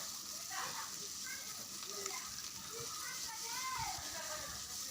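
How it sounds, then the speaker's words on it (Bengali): Eggs frying in a pan with turmeric give a soft, steady sizzle and crackle, fairly faint, with scattered higher pops and scraping throughout. "একদম লাল লাল করে সুন্দর করে ভেজে নেব ডিমগুলোকে।"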